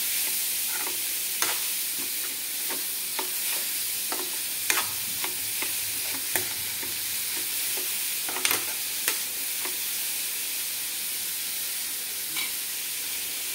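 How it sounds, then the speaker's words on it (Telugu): Food frying in a pan being stirred and mixed, a continuous sizzle under repeated scraping and clinking strokes of a spoon at an irregular rhythm, close and clear with no talk. "ఒకసారి మొత్తం కలిసేలా కలుపుకుందాము"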